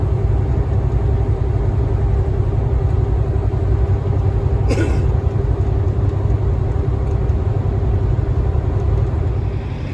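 Lorries idle at a fuel stop in Tennessee or Virginia, a loud, constant low diesel rumble with a steady droning hum, broken once near the middle by a brief sharp knock.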